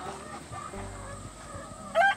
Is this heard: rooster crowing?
yes